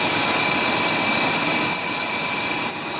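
A 1997 GMC Suburban V8 with eight freshly replaced spark plugs idles steadily after starting, a loud, even broadband engine rumble with a faint high whine running throughout and no talking.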